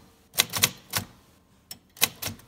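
A 1953 Royal Quiet De Luxe manual typewriter typing in bursts of sharp, close key strikes with short pauses between clusters, heard alone without talk.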